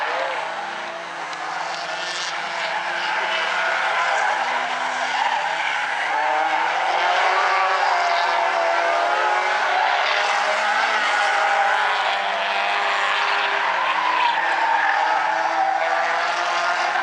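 Stinger 8 race cars roaring around the South Sound Speedway oval, a dense, continuous engine wail with shifting pitch as the pack passes, loud and sustained with faint track ambience beneath.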